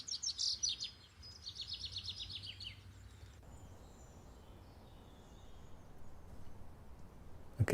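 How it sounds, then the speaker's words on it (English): A recorded forest soundscape used for meditation opens with a few seconds of clear high chirping birdsong, then settles into faint, soft ambient hiss. "this one will do minimal bird. It's called forest sound"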